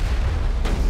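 A deep, loud boom of rocket fire in the video game Mass Effect 1, a single heavy blast with rumbling low end filling the short moment.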